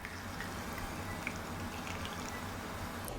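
Hot brewed Thai tea streams quietly and steadily into a cup over condensed milk, a soft continuous liquid rush with faint trickles, heard alone without speech.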